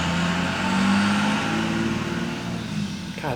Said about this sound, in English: people with loud trucks and cars are so annoying